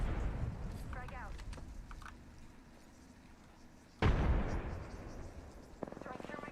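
A frag grenade detonates in the Apex Legends battle royale game with one sharp, loud boom that rolls off into a rumbling tail, after scattered game sounds and voice callouts, with more chatter following.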